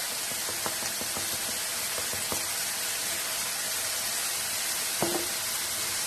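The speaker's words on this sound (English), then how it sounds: "Give that a stir, start to cook off the curry powder." Curry powder sizzles in a pan for an easy chicken curry, a loud, steady, close hiss throughout, broken by a few light spoon clicks as it is stirred.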